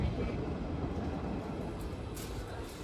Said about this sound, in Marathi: ट्रेन चालू झाली आहे.